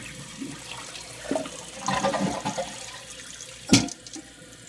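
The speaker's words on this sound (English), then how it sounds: "we'll flush the toilet" A household toilet with a newly repaired fill valve flushes with a rushing gurgle, then water runs and trickles as the tank and bowl refill, close and fairly quiet, with no talking.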